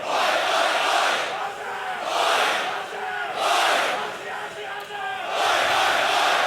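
Live crowd at a CS:GO esports match, ESL Challenger Melbourne 2022, chanting in loud rhythmic waves that swell and ebb roughly every second and a half, close and filling the space.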